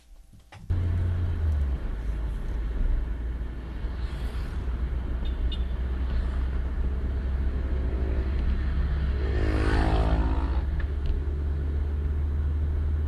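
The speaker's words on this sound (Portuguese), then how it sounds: "Todos os dias, cerca de 70 mil veículos passam pelo Minhocão e emitem alguns dos sons que vocês acabaram de ouvir." Dense traffic on the Minhocão elevated highway in São Paulo: a constant heavy road rumble with engines passing close by and a louder vehicle swelling past near the end.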